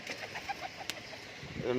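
Pigeons, including tumbler-type birds, give faint soft coos and clucks in a short stretch, with one brief sharp click, at a moderate distance under light background noise.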